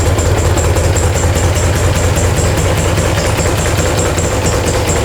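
A vehicle engine idles steadily at close range, a loud, even rumble with a rapid rhythmic pulse and a faint high whine on top, running unchanged throughout with no talking.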